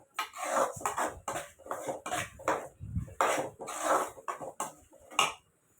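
A ladle stirs tomatoes frying in oil for an egg gravy, making a series of irregular metallic scrapes and clanks against the pan, fairly close and with no voices.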